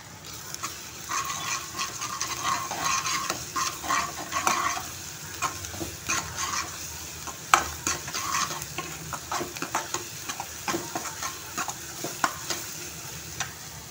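Garlic is stirred into softened onions frying in a pan, producing a continuous close sizzle with frequent sharp scraping and clacking strokes of a spoon against the pan.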